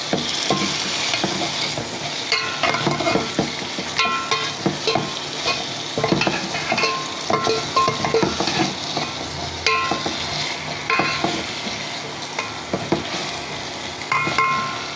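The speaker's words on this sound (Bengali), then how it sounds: "একসাথে আমি আদা রসুন পেঁয়াজ মরিচ বাটা হলুদ জিরার ফোড়ন সব কিছুতে মাছগুলো কষিয়ে নিচ্ছি।" Pangas fish pieces sizzle and fry in a pan with ginger, garlic, onion, chili paste, turmeric and cumin, with steady crackling and repeated stirring scrapes throughout, close and fairly loud, with no talking.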